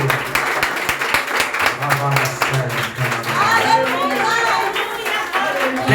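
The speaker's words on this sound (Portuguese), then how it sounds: "Aplauda fortemente ao Cordeiro" Congregation clapping hands at a Portuguese-language church worship service, a dense burst of applause with voices and musical tones underneath, building louder toward the end.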